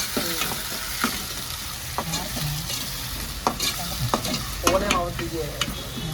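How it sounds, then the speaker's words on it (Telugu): Tomato and onion fry in a pan with a constant, close sizzle, broken by repeated spatula scrapes and clacks as the mixture is stirred, with no voices. "టమోటా, ఉల్లిపాయ ఇలా వేగిపోయింది."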